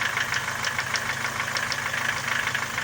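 An Opel Vectra A carbureted engine with an air leak under the carburetor runs at idle, a close steady rhythmic ticking and knocking over a low hum, no voices.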